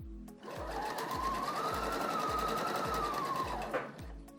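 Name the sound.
sewing machine stitching piping onto fabric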